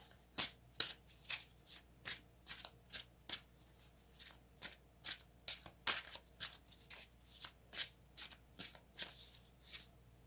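Tarot cards are shuffled by hand in a close, brisk series of riffling bursts, roughly two per second and evenly paced, heard alone without speech.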